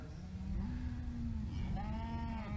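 Cattle mooing while being led to water at a farm trough, a long low moo up close followed by a higher drawn-out call, with no talk over it.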